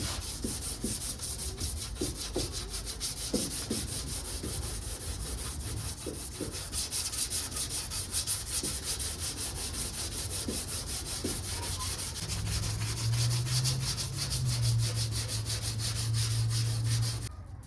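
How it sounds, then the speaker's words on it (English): A hand block sands the body of a 1979 Plymouth Volare wagon in long, steady, rhythmic rasping strokes close by, continuing throughout with a low hum joining near the end. "Just to sand up all the spots that you can't really get with the block"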